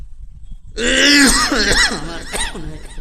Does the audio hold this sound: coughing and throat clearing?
yes